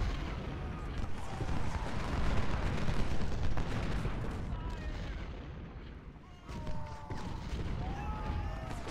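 An artillery battery fires in the Ultimate General: Civil War video game, a dense rolling rumble of booms and crackling volleys that continues throughout with a brief dip near the end.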